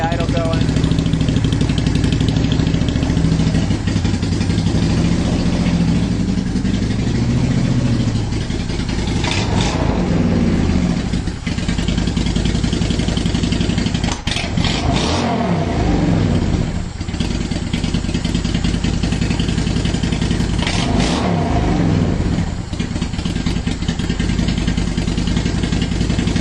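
A 2010 Honda Shadow Phantom motorcycle with fuel problems idles steadily in a garage, its loud continuous engine note broken by three sharp throttle revs spaced several seconds apart.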